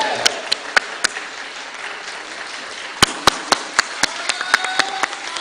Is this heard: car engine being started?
no